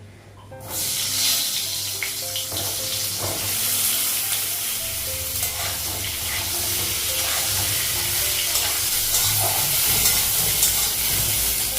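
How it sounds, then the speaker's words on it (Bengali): Pointed gourd sizzling and crackling in hot oil, a loud, steady frying hiss that starts abruptly and continues throughout, close up. "পটলটা একটু ভাজবো"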